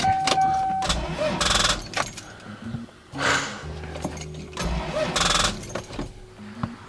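A car with a dead battery fails to start. Short bursts of rapid mechanical clicking and chattering come up when the key is turned, separated by pauses, each attempt dying away without the engine catching.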